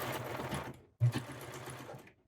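A serger sewing machine stitches fabric in two quick bursts of rapid mechanical whirring, close and clear, separated by a short pause and ending in quiet.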